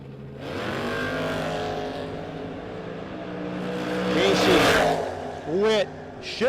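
Drag race cars, an '85 Capri and a no-box 660 Shootout Camaro, roar loudly off the line and rev hard at a drag strip, engines building to a rising wail, while a track announcer talks over the noise.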